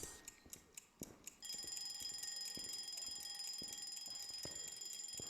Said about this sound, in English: Can you be quiet, alarm clock?